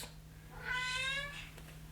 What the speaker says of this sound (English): Screaming cats.